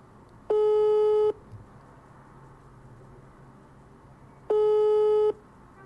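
Two long steady busy-signal tones from a telephone line, each lasting under a second and spaced several seconds apart, with faint room noise between them and nobody answering.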